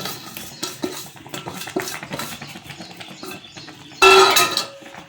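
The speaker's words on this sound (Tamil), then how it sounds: "முடிஞ்ச அளவுக்கு கையை ஃபாஸ்ட்டாக வச்சு நம்ம கொஞ்சம் கிண்டிக்கிட்டே இருக்கணும்" Rava upma stirred fast in a pan, with a run of quick scraping and clinking strokes of a spoon against metal, ending in a brief louder rattle.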